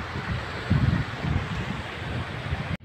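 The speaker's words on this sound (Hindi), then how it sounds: "पहले छुल छुल की आवाज़ आ रही है पानी की आवाज़" Water flows and splashes steadily into a clear village swimming pool, a soft, continuous rushing wash heard from nearby, with no talking and a brief dip near the end.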